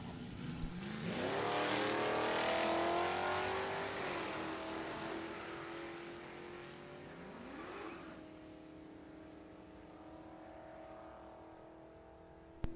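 Mustangs at a drag strip accelerate hard off the line in a rising, distant roar that fades as they pull away down the track, followed by a quieter second surge.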